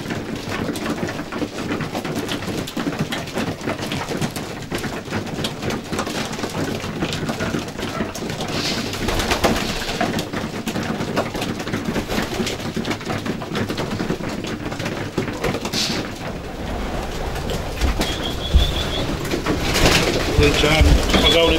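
Homing pigeons coo softly in an Irish loft among cocks and widowhood hens, with gentle continuous rustling and a voice talking over the birds throughout.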